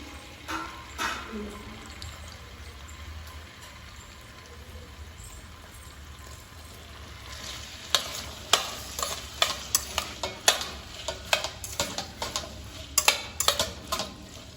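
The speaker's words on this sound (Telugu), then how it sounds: "ఒక ఐదు నిమిషాలు ఈ ఆలుగడ్డని నూనెలో మగ్గిస్తే మనకి మంచిగా ఫ్రై లాగా అవుతుంది" Potato pieces fry in oil in a pan with a steady low sizzle, then a spoon or spatula stirs them in a run of sharp, irregular scraping clicks that grows busier toward the end.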